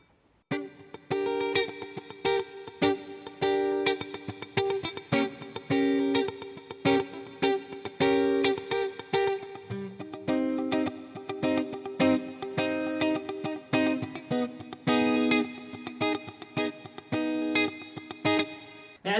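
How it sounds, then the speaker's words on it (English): Funky strummed electric guitar over a steady drum beat, playing the verse of a song with effects and a touch of distortion, rhythmic choppy chords continuing loud and alone throughout. "This is where our drum beat comes in and our guitar part gets a little bit funkier."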